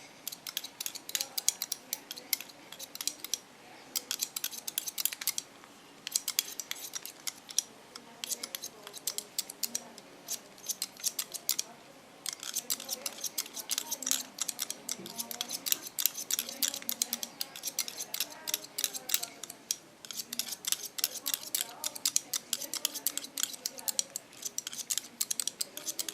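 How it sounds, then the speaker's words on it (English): Keone 7 hair scissors snip short hair freehand in a salon, a steady run of close, crisp metallic cuts in quick bursts with short pauses. "I love the sound of the scissors."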